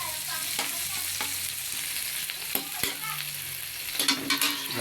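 Onions and garlic sautéing in a pan for chicken afritada, a constant close sizzle with scattered stirring scrapes and clicks, louder spatula knocks toward the end, no voices.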